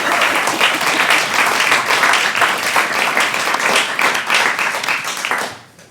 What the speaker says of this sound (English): All right, give them both a round of applause.